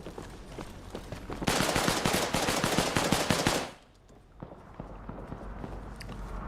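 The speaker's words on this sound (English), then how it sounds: "Second floor has already been absolutely riddled with MG fire." Dense bursts of rapid machine gun fire in a video game clearing a building's second floor, loud and sustained for a couple of seconds before dropping to quieter scattered game noise.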